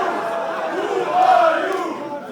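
A wrestling crowd at a wXw match jeers at Cappuccino Jones, a steady roar of many voices that swells briefly near the middle before settling back, with no talk over it.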